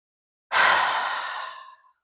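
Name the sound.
slow exhale after a deep yoga breath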